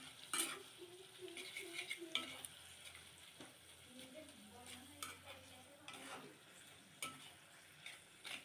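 Bean mash and mustard oil stirred together in a pan over heat, a faint close sizzle under repeated scraping strokes and small utensil clinks against the pan.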